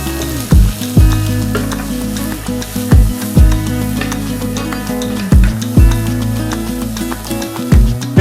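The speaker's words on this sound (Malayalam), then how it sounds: "ഇതിലേക്ക് വളരെ തിന്നായി കട്ട് ചെയ്തെടുത്ത 4 സവോള, 3 പച്ചമുളക് നടുവേക്കിട്ടതും കൂടെ ഇട്ടതിന് ശേഷം 1/2 ടേബിൾ സ്പൂൺ ഉപ്പും കൂടി ഇട്ട് നമുക്ക് നന്നായിട്ടൊന്ന് മിക്സ് ചെയ്ത് കൊടുക്കാം." Thinly sliced onions, green chillies and salt fry in hot oil for Kerala beef chaps, a loud steady sizzle broken by several heavy spatula strokes and scrapes as they are mixed.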